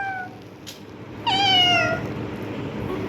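A child imitates a cat meowing, one drawn-out, rising then falling mew, close and fairly loud, with a faint earlier squeak and quiet room noise around it.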